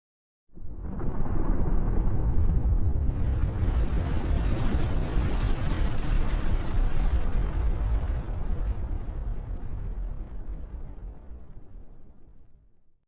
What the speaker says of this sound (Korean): 태양이 폭발합니다.